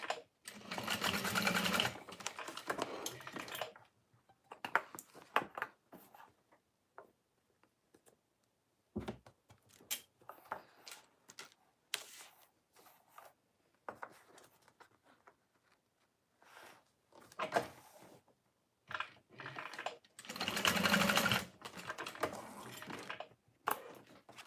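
A sewing machine bastes D-rings in place on a fold-over bag, running in two loud, sustained bursts at the start and end with shorter stitching runs and quiet pauses between them.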